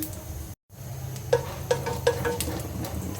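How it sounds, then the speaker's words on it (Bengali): Panch phoron spice seeds drop into hot oil with a brief sizzle, followed by a few sharp stirring clicks against the pan and a steady low frying hiss. "এখানে 5 ফোড়ন রেখেছি, দিয়ে দিব এটা তেলে"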